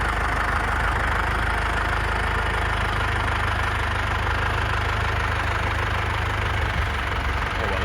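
Tractor engine idling steadily at a UK green sunflower harvest, a dense low rumble with a faint knocking texture, close and continuous with no break.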